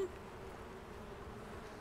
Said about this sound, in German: Man hört sogar die Bienen summen.